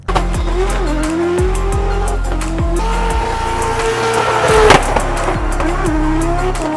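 A Nissan S15 Formula Drift car's RB26 engine roars continuously, with sharp throttle blips and rising pitch sweeps as it is driven hard, with occasional tire noise.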